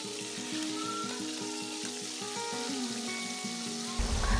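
Chicken frying in an open pressure cooker pot with its weight removed, a dense, even sizzle with rhythmic bubbling pops throughout, ending in a louder clunk, no voices.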